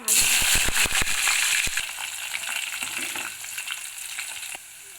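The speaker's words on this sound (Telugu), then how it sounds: "నెక్స్ట్ పోపు కోసం జీలకర్ర, ఆవాలైతే వేసేయండి. కొంచెం వేగిన తర్వాత" Cumin and mustard seeds crackle and pop in hot oil for tempering, loud sharp spits at first that settle into a steady sizzle. No voices.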